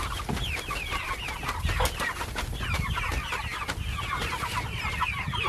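Chickens cluck in a steady, overlapping chorus close by, with short clucks and squawks repeating across the whole stretch and no one talking over them.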